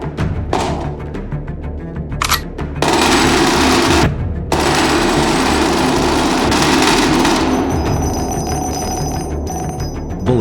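Gunfire in the video game People Playground, dense rapid bursts of loud automatic shots with brief breaks and metallic ringing, continuous game effects with no talking.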